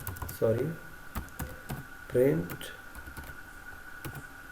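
Python code being typed on a computer keyboard: scattered, close key clicks come in short bursts while a person talks over them.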